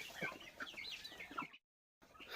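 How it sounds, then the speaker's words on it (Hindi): Domestic chickens clucking and chattering in a room as they are fed grain, with close, busy overlapping calls that stop abruptly for a moment before resuming. "ये देखिए दोस्तों, इसी रूम में रहते हैं मुर्गियाँ। लोगों को दाना दे रहा हूँ, किस तरह से दौड़ेंगे"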